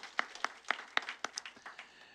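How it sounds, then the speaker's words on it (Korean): Church congregation clapping to welcome a newly registered young member during Sunday worship, a sparse run of distinct claps at a modest level that thins out toward the end. "박수하겠습니다"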